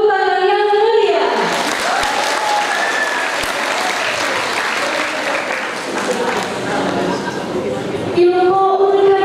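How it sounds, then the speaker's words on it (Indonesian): A large crowd at a junior high school graduation ceremony breaks into loud, sustained applause that fills the hall for several seconds, while a speaker's voice runs over the start and end. "Berikan tepuk tangan yang meriah."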